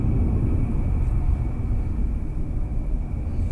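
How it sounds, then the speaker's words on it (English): Big military aircraft passing overhead near a rural workshop, a steady low droning rumble that stays loud and even throughout, with no talk. "that's one of them big old planes driving by"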